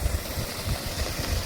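A 7.5 HP water pump motor driving water through a 3-inch pipe, a steady low rumbling drone with a faint rhythmic pulse, continuous and close.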